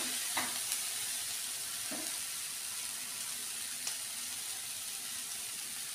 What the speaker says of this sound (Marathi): आता हे चांगलं धुवून घेतलेले फुलावर हे टाकून फिरवूया